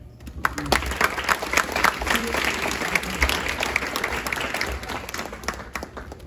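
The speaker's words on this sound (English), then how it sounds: "Remember that applause." Dinner guests at a friends and family dinner break into warm applause, a dense, lively patter of many hands with a few louder claps standing out near the listener.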